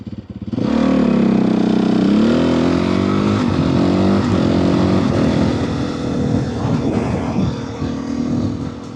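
A motorcycle fitted with its stock exhaust runs close by, a loud steady engine drone that starts abruptly, shifts pitch slightly with throttle, then settles into a rougher, slightly quieter idle, with no talk.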